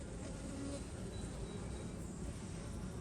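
Honey bees hum around an open hive during a package colony inspection, a continuous close, low buzzing drone with occasional individual bees passing nearby.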